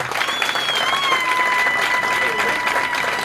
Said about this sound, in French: Je voudrais que vous fassiez une ovation particulière pour lui.